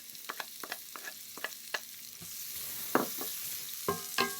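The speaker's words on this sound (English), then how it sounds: "And then into the pot goes some shallots" Thinly sliced shallots drop into a hot pot and fry for a mushroom prosciutto pasta, with a run of light clicks and taps from stirring. A steady hiss then builds underneath as the sizzle settles in, close and moderately loud.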